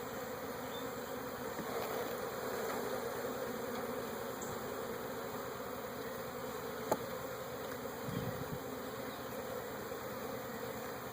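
Honeybees buzz steadily and close during a beehive inspection, a dense insect drone with bees passing near, and no talking.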